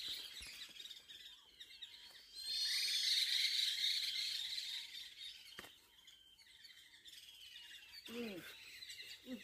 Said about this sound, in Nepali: गाइस यु क्यान हियर है चराको चिरिरिरिरिरिरिरि